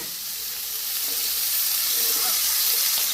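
Oil poured over vegetables in a hot pan for a mixed vegetable dish with paneer, Malabar spinach, potato and pumpkin, giving a loud, steady, close sizzle that builds slightly and stays hissing throughout.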